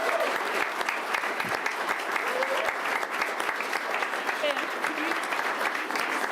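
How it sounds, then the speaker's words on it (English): A round of applause at a city council special meeting in Aspen, dense continuous clapping from the chamber audience holding steady and fairly loud for the whole stretch. "That could have a round of applause."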